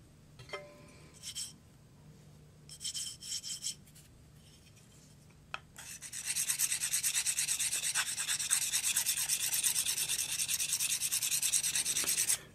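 Dovo Barbarossa 5/8 straight razor being honed on a 600 grit stone with Ballistol, giving a steady close rubbing, scraping rasp that runs continuously for several seconds after a few brief scattered strokes.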